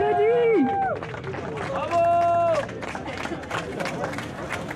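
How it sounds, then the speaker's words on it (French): An audience applauds the weekend's double winner at the Green Rallye, scattered clapping and crowd noise carrying under loud, amplified voices and tonal sounds at the start. "On l'applaudit"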